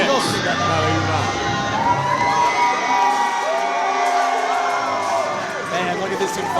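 A crowd at a live tag team wrestling event cheers and whoops loudly, with excited shouts and chants rising and falling over a continuous roar of voices.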